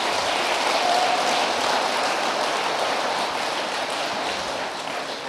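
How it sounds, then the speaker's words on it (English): A large conference audience applauds the first-time speakers at a closing session, a loud continuous roar of many hands clapping at once, steady throughout and easing slightly toward the end. "So let's give them a round of applause."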